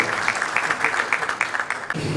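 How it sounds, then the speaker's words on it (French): Audience applause at a logistics awards ceremony in Casablanca, a dense, steady patter of many hands clapping across the hall that stops abruptly near the end. "Monsieur Mohamed Yousfi, sous vos applaudissements, mesdames et messieurs, pour le nom d'ouverture."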